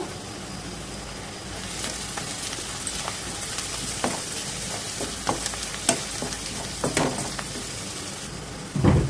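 Sliced onions and green chillies with salt frying in hot oil, a continuous close sizzle with scattered scrapes and taps of a spatula stirring in the pan.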